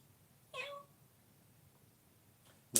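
A hypnotized person imitates a cat with a single short meow-like vocal cry, fairly close, followed by quiet and a faint noise at the end.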